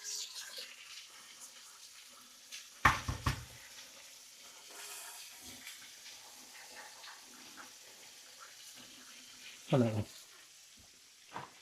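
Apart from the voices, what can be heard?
eggs frying in butter in a pan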